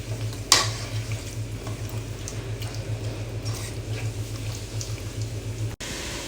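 Desi chicken for a restaurant-style murgh karahi frying in masala while being stirred, with a steady sizzle, a low burner hum and one sharp clatter near the start.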